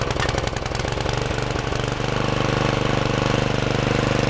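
Gasoline rototiller engine running in a garden, close and loud, a steady rapid chugging throb with a rough, knocking edge that stays even throughout, with no speech.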